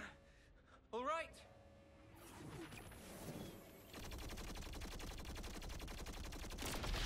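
Rapid gunfire in Xenoblade Chronicles 3 rattles on continuously as a dense, steady fusillade, building from about the two-second mark and growing louder toward the end, with game sounds and voices mixed in.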